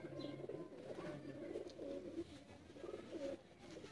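Teddy pigeons coo softly and repeatedly in low, rolling phrases that overlap in a continuous murmur. The birds sound close but faint, and no one speaks.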